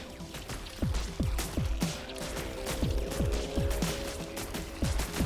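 Video game turrets in a real-time strategy match fire rapid, repeated shots that crack and thud in a steady barrage, with explosions and mechanical clatter layered beneath, loud and continuous.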